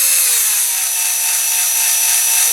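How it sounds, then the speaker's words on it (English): A drill bit bores slowly into a Dinky Toys No. 259 fire engine model during restoration, giving a steady, high, grinding whine that holds close and even throughout. "I'm just going to go slowly, very slowly in, because if you go too quick the drill bit heats up and then you can't drill"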